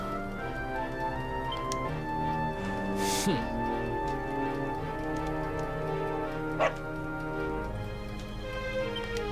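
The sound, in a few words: dog barking in the video game Dragon Quest XI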